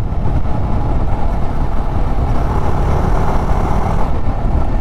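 A 2023 Jawa 42 Bobber motorcycle engine pulls steadily through the gears on the road, a continuous loud rumbling drone with wind noise that stays constant throughout.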